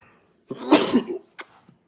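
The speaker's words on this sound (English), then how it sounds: "how rude is that to sneeze on stream?" A single close sneeze bursts out, followed by a short sharp exhale, with silence around it.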